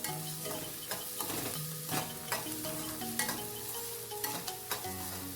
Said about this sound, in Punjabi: ਭੁੰਨਾਂਗੇ ਜਦੋਂ ਤੱਕ ਆਪਣੇ ਪਿਆਜ਼ ਬਰਾਊਨ ਨਹੀਂ ਹੋ ਜਾਂਦੇ